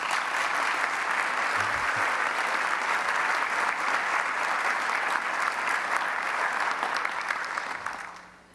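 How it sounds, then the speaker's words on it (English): Sustained audience applause at the Annual Archbishop's Gala, a dense, even roar of many hands clapping for over eight seconds before tapering off at the end, with no speech over it. "I ask you to please applaud and show your appreciation for their work on this beautiful event."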